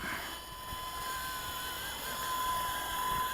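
A small WLToys RC helicopter motor whines steadily at low level, a thin sustained electric tone with faint rotor buzz.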